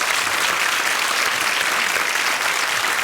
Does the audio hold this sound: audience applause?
yes